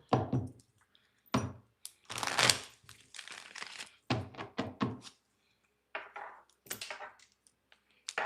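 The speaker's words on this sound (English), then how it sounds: "Let me do one more shuffle." Tarot cards are shuffled close up in quick, crisp riffling bursts of papery crackling and soft thumps, separated by short silent pauses.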